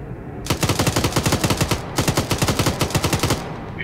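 An M240 machine gun fires in the video game ArmA 3, loud and close, in two long bursts of rapid, evenly spaced rounds separated by a brief pause.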